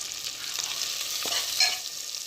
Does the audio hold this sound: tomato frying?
yes